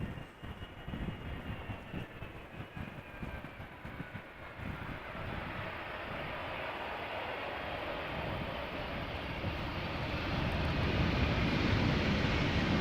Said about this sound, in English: have a look at the landing of the 777